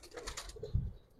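Giribaz pigeons of an old-generation line give a brief, soft coo, a low burst that swells near the end of a short stretch, over faint background noise and without any voices.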